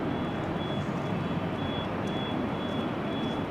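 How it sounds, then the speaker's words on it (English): A thin, high beep repeats steadily at even intervals, faint behind a loud, constant rush of wind and rain at Amsterdam Schiphol Airport. "There is a constant beeping here."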